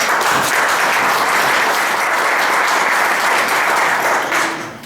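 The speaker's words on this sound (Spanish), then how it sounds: "Un aplauso para ellos" Loud, dense applause from an audience at a community training session, a continuous wash of many clapping hands that holds steady and then tapers off at the end.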